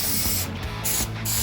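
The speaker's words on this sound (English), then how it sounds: "Now you're spraying the actual. Spraying the panel. Contact adhesive." Two quick hissing spray bursts of contact adhesive from a can onto a campervan panel, close and fairly loud, separated by a brief pause.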